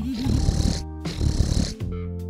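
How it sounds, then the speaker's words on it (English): A cartoon snoring effect in a kids' show: two long rumbling, growly inhales broken by short silent pauses, followed by a buzzy tonal exhale, close and moderately loud. "throat muscles weaken over time, thus making snoring likely"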